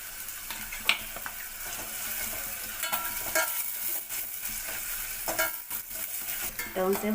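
Green chillies and onions for a cabbage and chana dal curry sizzle steadily in hot oil while a spoon stirs and scrapes the pan now and then, close and continuous, with no voices.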